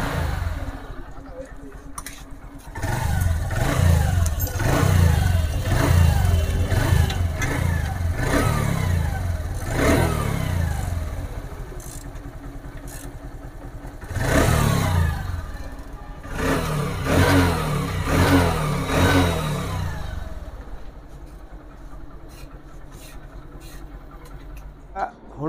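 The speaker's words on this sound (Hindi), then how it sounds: "साइलेंसर लगा के आप लोगों को साउंड क्वालिटी दिखाता हूँ, ठीक है।" A Honda Livo motorcycle engine, freshly repaired with the silencer fitted, revs repeatedly up and down in close, loud bursts, settling to idle between throttle blips, with a voice speaking briefly.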